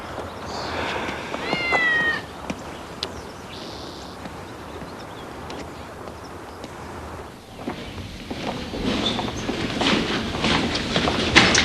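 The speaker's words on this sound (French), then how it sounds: "c'est pas un chat, c'est une chatte" A cat meows a few times early on, rising and falling, over a background hum of moving rail cars and distant clatter.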